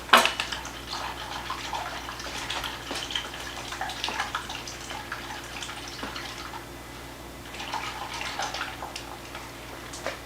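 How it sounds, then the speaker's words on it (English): A whisk beating an egg into a mixture in a bowl, with quick irregular clinks and scrapes against the bowl continuing throughout at close range, no talking. "now we're going to whisk that together."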